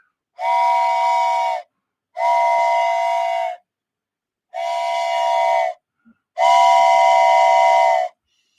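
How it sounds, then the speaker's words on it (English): Four long, loud blasts of a steam whistle, each lasting about a second, separated by short silent gaps. "It's time for the whistle."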